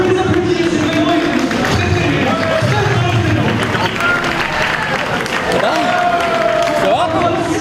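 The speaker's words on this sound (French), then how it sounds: "On peut les applaudir" A crowd applauds competitors arriving at a PSP championship event in Vélizy, steady clapping and hubbub blended under a presenter's voice throughout.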